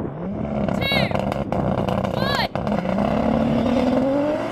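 Rally car making about 800 horsepower launching at a drag race, engine roaring and rising in pitch as the wheels spin hard, with high squealing chirps overhead; loud and continuous, close to the listener.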